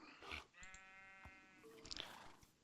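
Sheep in the block-building game Minecraft bleat in a clear wavering cry, with a couple of shorter sounds around it, at moderate distance in a quiet scene.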